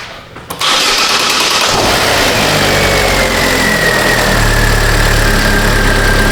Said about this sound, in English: Let's crank it over and see what happens with this little guy.